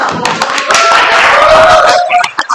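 Loud, dense applause and clapping from a group, sustained for a couple of seconds before tapering off into a few scattered claps.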